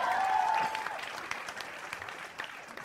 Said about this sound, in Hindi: एक बार जोरदार तालियां बंटी जी के लिए यार